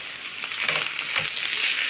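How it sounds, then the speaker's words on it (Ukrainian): Mushrooms and onion sizzle and crackle in a hot pan, a steady close frying hiss with a couple of brief stirring scrapes. "Перемішуємо і трошки теж піджарюємо їх."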